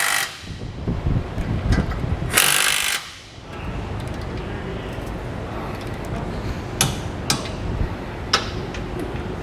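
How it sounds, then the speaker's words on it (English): Ratchet with a 3/4 inch socket tightening trailer hitch hardware, close rapid clicking and rattling strokes with a short pause, no speech. "3/4 inch socket, we'll tighten all of our hardware"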